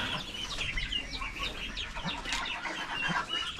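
A wild jungle fowl hen at her nest clucks in short, sharp, agitated bursts, close and fairly loud over faint background rustle, with no talking.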